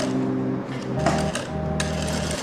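Sewing machine stitching two folds along the seam of salwar fabric, a steady close mechanical whirr with faint shifts in pace as the cloth is guided through.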